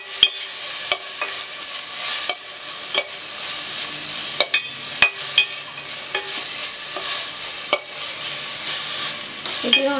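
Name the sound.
frying ground ginger, garlic, pepper and cumin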